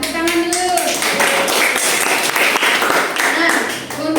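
A class audience claps hands in applause during a school lesson, with steady close clapping running throughout and people talking over it.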